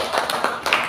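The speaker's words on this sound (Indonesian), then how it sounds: "tepuk tangan untuk guru" A short burst of clapping for a teacher at a school workshop, a few sharp separate hand claps heard close and clear over less than a second.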